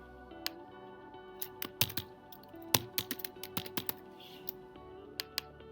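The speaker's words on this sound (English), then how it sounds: "And then here you're going to type your name" A name being typed on a computer keyboard: quiet, irregular key clicks in short bursts, some taps sharper than others, close up in a quiet room.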